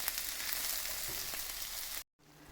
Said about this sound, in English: I fry the hamburger and the pork meat in the same cast iron